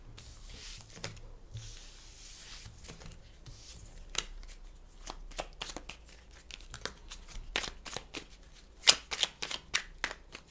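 A deck of cards being shuffled and cut by hand, soft riffling and rubbing at first, then a run of crisp close flicks and snaps growing denser and louder toward the end.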